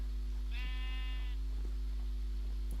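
A single sheep bleats briefly in a video game (FTB Monster, Minecraft modpack), wavering and nasal, over a constant low electronic hum.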